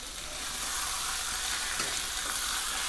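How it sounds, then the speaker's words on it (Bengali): Soya chunks fry in hot oil in a pan, making a steady, even sizzle that swells slightly at the start and holds, close by and with no voices. "একটু হালকা করে ফ্রাই করে নাও কিছুক্ষণ ফ্রাই হোক"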